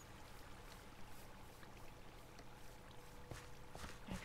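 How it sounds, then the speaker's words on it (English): Steady rushing of river water in a Minecraft modpack world, a continuous broadband wash with faint trickling detail, moderately quiet and alone without any talk. "And the river comes around here. Can you hear it?"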